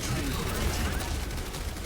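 Rapid gunfire from the video game Overwatch, a dense continuous burst of shots over a loud game soundtrack, with a voice talking over it.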